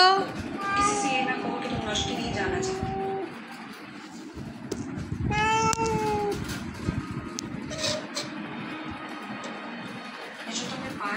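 A cat meows several times in short, rising cries, heard close, over and around people's affectionate talk in a home.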